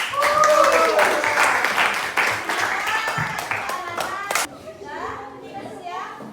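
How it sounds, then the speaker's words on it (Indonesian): Applause from a classroom audience of students, a dense burst of many hands clapping mixed with children's chatter and shouts, fading to scattered claps and voices toward the end. "kita berikan aplaus ya"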